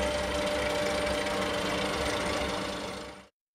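Scroll saw cutting MDF in a small workshop with a dust extractor running, a rapid buzzing reciprocating blade chatter, close and steady, stopping abruptly after about three seconds.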